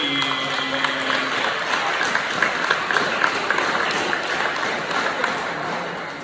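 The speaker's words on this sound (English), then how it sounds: "Can y'all clap it up for Mr. Demetrius Kenny?" A crowd applauds continuously at a middle school awards ceremony, a dense patter of clapping hands at moderate volume with no voices.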